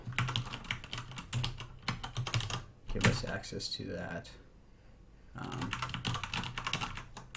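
Rapid computer-keyboard typing clatters close by in quick uneven bursts, pausing briefly mid-clip before resuming, with a person talking over part of it while coding a game's keyboard input handling.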